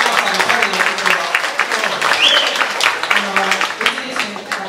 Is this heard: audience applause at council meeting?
yes